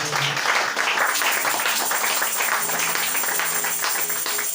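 A church congregation applauding the Lord during a service, a dense wash of clapping from many hands filling the room steadily throughout.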